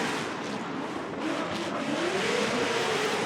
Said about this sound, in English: Now, Ryan, was the contact made due to dropping the RPMs and dropping the speed?